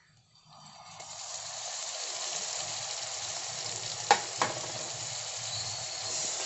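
Chopped tomatoes with onions sizzle steadily in a hot pan for a curry, a bright continuous hiss that swells after they drop in, with a couple of quick stirring clicks.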